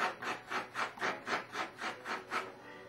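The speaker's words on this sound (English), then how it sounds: "I'm going to use my sanding block just to get off the extreme sharp" A hand sanding block rubs back and forth over the sharp edges of a modified sport fishing float, about ten even rasping strokes in a steady rhythm, close and clear with no talk.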